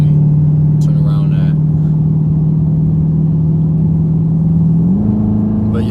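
A 2018 Dodge Charger R/T Super Track Pak gives a steady low engine drone heard from inside the car, rising slightly near the end. Talk runs over it.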